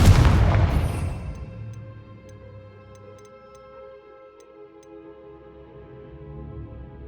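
A single loud blast from the Confringo or Bombarda spell in Hogwarts Legacy, set in catacombs, bursts at the start and then decays into a long ringing, tonal tail that lingers faintly.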